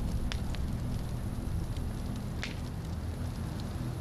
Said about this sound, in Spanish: Escucha fuego.